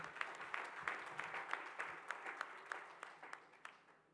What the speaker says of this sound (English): A round of applause. A louder one.